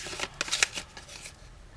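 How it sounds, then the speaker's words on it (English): Paper tabs being snipped off a scored cardstock lidded box with scissors, a few quick crisp cuts close up in the first second, then quiet rustle. "I'm just going to snip these little tabs off that I made when I cut into the"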